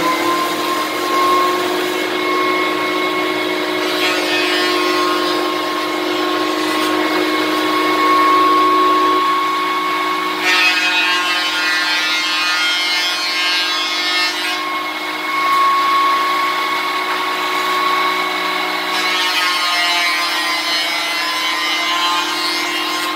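Cutech jointer planing warps out of a wooden tabletop board, a sustained high-pitched motor whine with a steady tone, and cutting noise that swells and fades in repeated passes.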